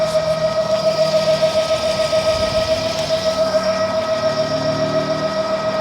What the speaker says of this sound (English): You can really hear how loud the scooter is on this hill here.